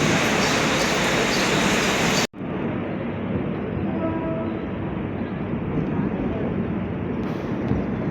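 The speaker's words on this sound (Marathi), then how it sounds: "चला, आली ट्रेन" A train at Panvel station platform gives a loud, dense rumbling roar that cuts off abruptly, then continues as a lower rolling rumble with faint tonal squeals, heard close by.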